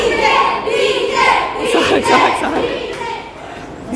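A freshers day crowd of college students at a BCA college in Hubli, lively overlapping chatter, shouts and laughter filling the space, close and loud, with voices talking throughout.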